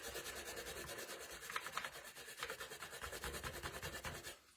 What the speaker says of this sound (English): But you need to scrub it off.